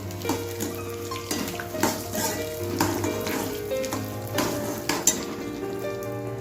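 Peanut chutney ingredients roasting in a pan over medium heat: a soft continuous sizzle with intermittent spatula scrapes and light stirring knocks, fairly quiet and close.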